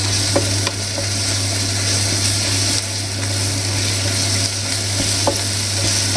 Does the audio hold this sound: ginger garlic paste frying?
yes